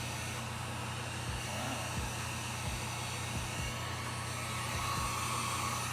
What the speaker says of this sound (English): I'm gonna grab my heat gun again and just warm up the surface.